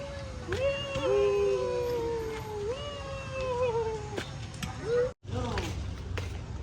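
Dogs whine and howl in drawn-out, wavering cries, close and fairly loud, with a sharp break near the end before the whimpering resumes.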